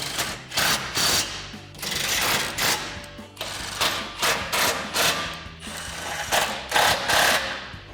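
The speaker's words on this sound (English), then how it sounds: "we can take our 18mm socket to tighten down our bolts" A ratchet with an 18mm socket tightens exhaust bolts on a Jeep Gladiator JT, with repeated bursts of close, rapid clicking and mechanical rattling separated by short pauses.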